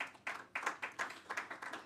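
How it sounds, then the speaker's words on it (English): A small conference audience claps for the faculty, a faint, distant patter of separate hand claps coming in uneven bursts, with no talking over it. "I think we have to give the faculty a big round of applause"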